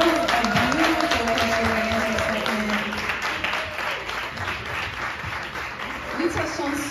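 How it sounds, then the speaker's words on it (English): Audience applause at a ceremony Q&A, dense clapping from a crowd that runs throughout, with a voice speaking over it. "Let's give them another round of applause."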